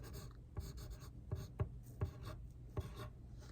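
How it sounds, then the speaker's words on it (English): A pencil writes a single word on paper, its soft scratching strokes broken by several small taps as the point meets the page, close and quiet with no talk. "Can you write that word?"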